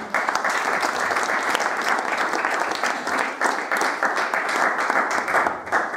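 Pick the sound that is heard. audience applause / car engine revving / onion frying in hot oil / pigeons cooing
audience applause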